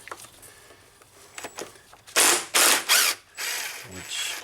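A hand ratchet clicks in several loud bursts while backing out two Torx screws holding the throttle position sensor on a Dodge truck, close up under the hood, with quieter tool handling between bursts.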